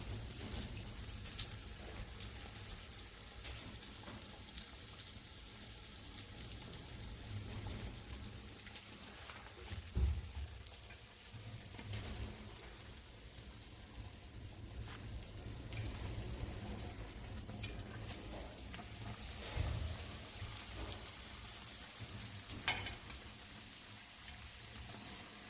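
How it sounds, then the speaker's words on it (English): Donuts frying in hot oil, the longer pieces cooking on their own, give a steady faint crackle and patter like light rain that runs throughout with no voices. "So we'll fry the longer ones on their own separately."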